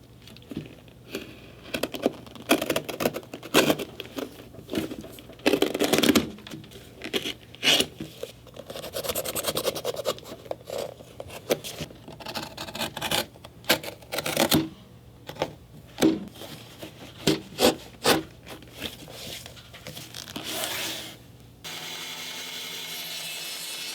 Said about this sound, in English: So let's cut them in half.